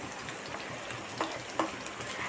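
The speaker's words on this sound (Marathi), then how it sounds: "अद्रक लसूण मिरची छान आपल्याला परतून घ्यायचं आहे" Ginger, garlic and chili sauté in a pan over a medium gas flame with a soft continuous sizzle and a couple of light stirring scrapes, close but fairly quiet, no talking.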